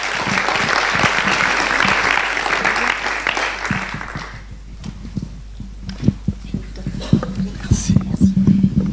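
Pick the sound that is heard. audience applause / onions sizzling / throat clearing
audience applause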